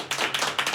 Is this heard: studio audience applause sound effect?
yes